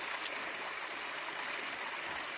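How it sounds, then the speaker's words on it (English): Steady rushing water from a waterfall in woodland along the Appalachian Trail, a continuous broadband roar heard from a short distance with no other sounds. "I love how you're walking through the woods and you can hear the waterfall."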